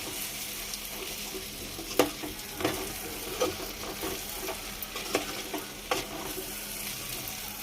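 Brinjal curry stirred and cooking in a pan, soft continuous sizzle with faint scraping stir strokes and a few light clinks, quiet and steady with no talking.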